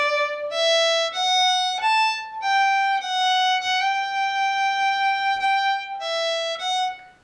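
Solo fiddle playing the second phrase of the Irish tune The Little Burnt Potato, a clear bowed melody stepping up a scale, leaping higher and descending, sustained and close with no talking.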